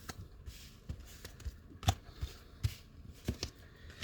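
Tarot cards handled and drawn one after another for a five-card fortune-telling spread, giving soft papery slaps and flicks at irregular intervals, fairly close and quiet with no talking.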